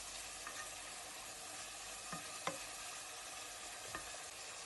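Spiced food frying in oil in a pan, with a continuous soft sizzle and a few distinct scrapes and knocks as it is stirred. Close and steady, with no voices.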